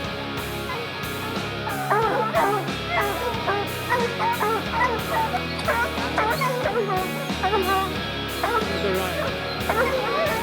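Hunting dogs bay and yelp in a steady, overlapping chorus while working a lion's trail on a black bear bow hunt, fairly close and continuous, with people talking over the barking.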